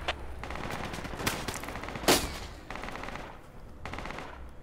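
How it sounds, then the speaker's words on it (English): Sustained bursts of automatic gunfire in the tactical military shooter Project Reality 1.3 during a heavy firefight near a bunker, with dense repeated cracks, a sharper louder shot around the middle and several distant volleys, loud and close throughout. "I'm firing back"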